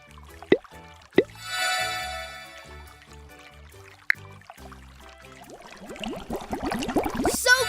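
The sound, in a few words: water dripping from a leak in a cartoon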